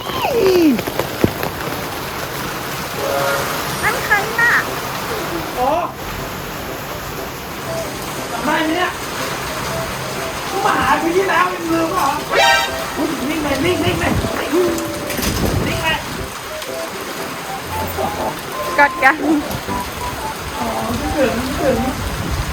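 Rain patters steadily on surfaces outdoors, a continuous hiss with scattered drips, while several people talk over it and footsteps and small movements come and go.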